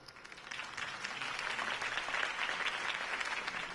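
A crowd applauds a campaign speech in the Batman: The Telltale Series video game, a dense, steady wash of clapping that builds slightly and holds at an even level from start to finish.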